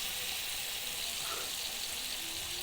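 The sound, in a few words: stirring noodles with soy sauce in a frying pan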